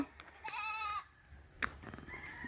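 Goats bleating on a rural countryside farm, a few wavering calls close by with a short sharp cry following, over quiet outdoor background.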